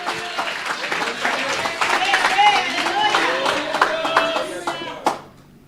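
Church congregation at an annual retreat applauding, a steady wash of many hands clapping close by under a speaking voice, cutting off sharply near the end.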